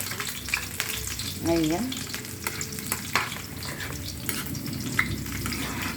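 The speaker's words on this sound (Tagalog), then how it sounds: "Yes, ginigisa na ang bawang." Garlic sautés in a pan while stir-fried bottle gourd with meat is started, with a close, steady sizzle and intermittent stirring clinks. A short spoken word and a brief vocal sound break in partway.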